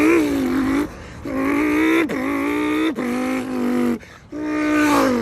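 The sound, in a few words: man imitating Lamborghini Huracan launch with his mouth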